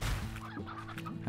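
Hens cluck in the Slime Rancher video game, a short burst of tonal clucks and squawks from nearby fowl, with no talking over them.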